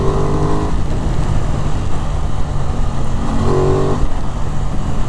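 An Aprilia RS660 sport motorcycle engine with stock exhaust runs steadily and loudly up close, giving a continuous low rumble with a couple of brief revs.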